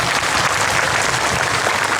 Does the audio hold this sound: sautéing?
no